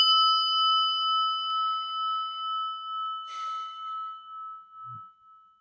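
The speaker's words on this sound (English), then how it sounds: "So I ring the prayer bell." A single prayer bell is struck once and rings with a clear, sustained tone that slowly fades in pulsing waves, close and alone with no talking.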